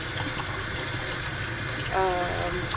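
Running water from a tap rinses a tie-dye t-shirt, a steady splashing wash with a brief gurgle near the end and voices in the background.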